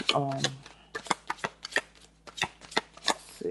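Cards riffle and snap in a quick series of crisp shuffles, with a voice speaking briefly at the start.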